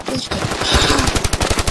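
Rapid automatic gunfire from the mobile shooter game Standoff 2, a loud, fast train of evenly spaced shots that grows steadier toward the end, heard alone without talk.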